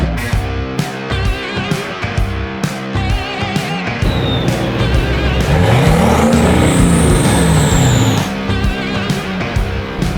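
Cars at a drag racing strip roar past one after another, with loud engines revving and fading and a rising pass in the middle that sounds near and then far.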